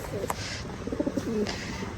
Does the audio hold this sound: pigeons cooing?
yes